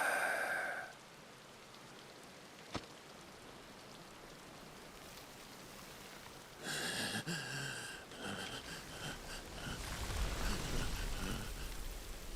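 Rain falling in the video game Final Fantasy XVI, a quiet, steady hiss of drops that swells louder toward the end, with brief breathy sounds and other game noises mixed in.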